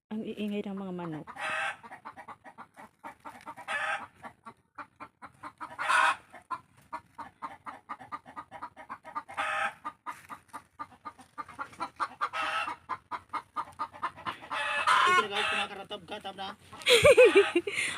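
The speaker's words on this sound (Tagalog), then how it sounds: "Ang iingay ng mga manok." Chickens cluck and squawk repeatedly near a copra-drying fire in a rural Filipino yard, with bursts of crowing, while people talk intermittently underneath.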